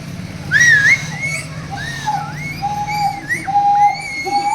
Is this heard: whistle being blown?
yes